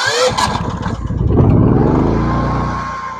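Genmax GM9000IEV dual fuel inverter generator, running on gas or propane, cranks and catches, its engine surging up into a loud, steady running drone that holds close by with no talk over it.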